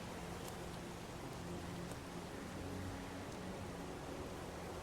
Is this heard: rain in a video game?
yes